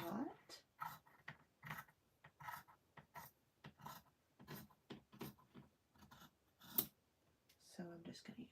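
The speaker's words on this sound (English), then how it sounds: "So I'm just going to use these scissors." Crisp sewing-scissor snips cutting through paper, a series of short irregular cuts close by, with some quiet rustling between them.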